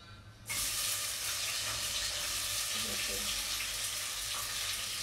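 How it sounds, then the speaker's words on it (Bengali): Onions hit a hot pan and set off a sudden loud sizzle that then holds steady and close, with faint background voices early on. "পেঁয়াজ দিতেছি"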